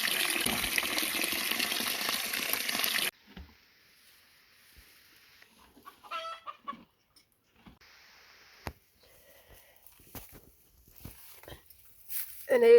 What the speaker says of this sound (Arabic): دابا غادي نصفيه وغادي نبدل ليه الماء.